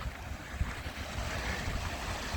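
Low water flowing over a water control dam on Portage Creek outdoors along a bike trail, a steady broad rushing wash with some wind, no talk.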